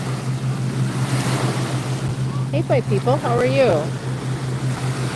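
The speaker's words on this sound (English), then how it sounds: "Man, the waves are getting a little close here." Lake waves wash ashore at Lake Geneva, Wisconsin, a steady rushing wash with wind and a low constant hum beneath, while someone speaks briefly over it.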